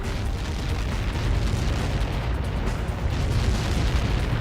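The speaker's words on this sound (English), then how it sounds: "How many got caught in that explosion?" A missile impact explosion in the Ace Combat 7 combat flight game, a loud, sustained roaring boom with deep rumble filling the whole stretch, no voices over it.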